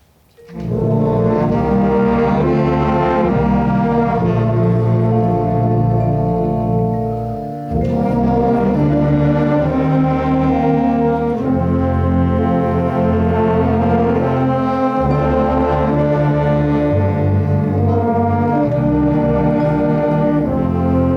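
A sustained ensemble chord of brass and woodwinds, rich and loud, shifting through a few harmonies with a brief dip midway before swelling on.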